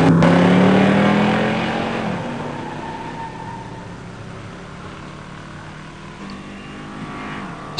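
A 1970 Cuda AAR 340 six-pack automatic and a 1985 Mustang 302 five-speed in a pure stock drag race. A loud engine roar at launch fades steadily into the distance, with faint talk in the background.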